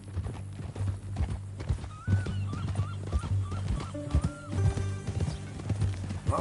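Horse hooves clip-clopping steadily in the video game Red Dead Redemption 2, a rhythmic close plodding with a brief whinny, under a low musical drone and faint background sounds.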